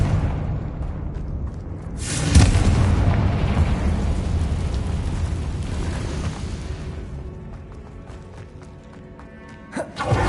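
A Confringo spell blast in the Hogwarts Legacy video game, a loud fiery burst that flares up suddenly and then roars and crackles as it slowly dies away, with a second sharp pop near the end.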